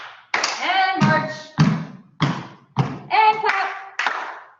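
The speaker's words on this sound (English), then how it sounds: "And march." Children marching and stomping their feet during a storytime movement activity, producing a steady series of about seven thumping footfalls close by, with faint voicing between the steps.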